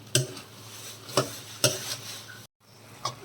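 A spoon scrapes through ivy gourd cooking in a pan, with three sharp stirring strokes close by, a brief gap of silence, then one more stroke over a quiet background hiss.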